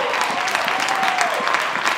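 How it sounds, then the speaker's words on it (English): Football crowd at a South Melbourne versus Alamein women's league match applauding a great save by the keeper, a steady, dense wash of clapping held at even loudness throughout, with a brief whistle-like tone rising through the middle. "And the crowd shows their appreciation"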